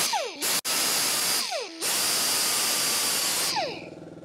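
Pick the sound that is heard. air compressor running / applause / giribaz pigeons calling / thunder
air compressor running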